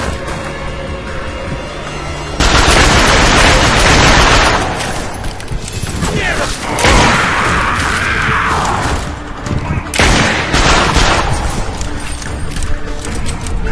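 Gunfire in the video game The Darkness 2, loud dense bursts of shots and impacts with booms and mechanical clatter, rapid volleys continuing throughout with little pause.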